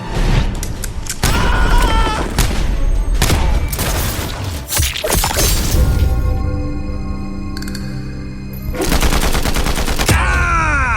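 Gunfire in the Western video game Neversoft's GUN, a series of loud, sharp shots and bursts, some spaced and some rapid, with ringing decays and a brief tonal sweep near the end, heard alone without talk.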